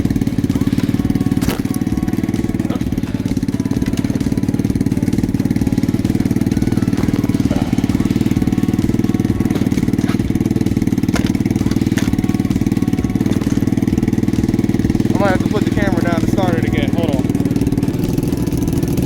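Lifan KP Mini 300 4-valve motorcycle engine, kickstarted and running with a steady loud droning idle throughout, slightly uneven, someone speaking briefly over it.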